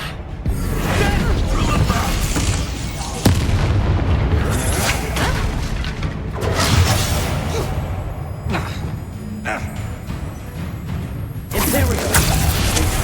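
A fire spell cast in the video game Hogwarts Legacy, loud booming bursts and whooshes layered over dense, continuous combat noise and music, with a sharp thump partway through.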